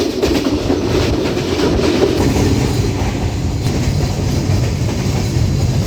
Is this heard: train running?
yes